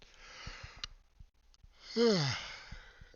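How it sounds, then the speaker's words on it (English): A man gives a single long, close yawn with a rising, drawn-out voiced groan that trails into a sigh, after a few soft breaths and small clicks. "As I'm yawning"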